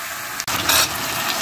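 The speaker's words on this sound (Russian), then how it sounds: "Обжариваю морковь" Carrots and onion fry in a pan, a steady close hiss of sizzling that swells briefly after a sharp tap, then carries on evenly.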